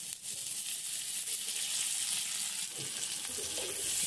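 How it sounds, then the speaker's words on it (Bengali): Chopped onion and chilli frying in oil in a wok, a steady hiss of sizzling held at an even level throughout, with no talk. "এবার কড়াইতে দিয়ে দিচ্ছি পেঁয়াজ কুচি, লঙ্কার কুচি আর পরিমাণ মতো তেল।"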